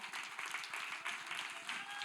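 Church congregation clapping together in praise during a Spanish-language sermon, a steady rhythmic patter of many hands at moderate volume, continuous through the moment with no voices over it.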